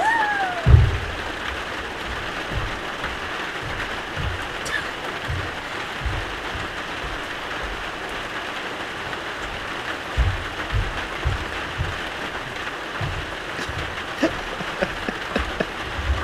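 Rain falls steadily outdoors, a continuous soft patter with scattered louder drops and taps close by, lasting the whole stretch without anyone talking.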